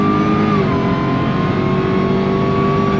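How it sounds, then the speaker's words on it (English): A 2022 Jeep Gladiator Demon with 840 horsepower accelerates hard on throttle, its supercharger giving a loud, sustained high whine above a dense, roaring engine note, heard close up. "On throttle, here we go. That supercharger whine."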